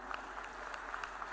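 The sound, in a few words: audience applause at award ceremony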